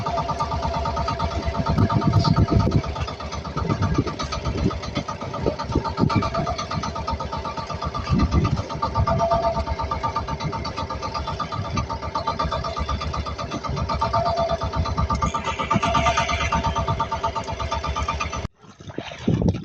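A boat engine runs steadily at a mid pitch throughout while crabbing on the water, close and continuous, then cuts off abruptly near the end.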